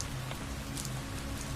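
Cold autumn rain falls in a steady, dense hiss of droplets, soft and continuous with no voices over it.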